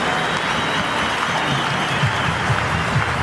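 Cricket crowd at a Test match ground applauding and cheering a batsman's century against Australia, a steady, dense wash of clapping from a large stand with no voices on top.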